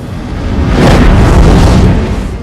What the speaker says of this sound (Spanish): Explotará hacia afuera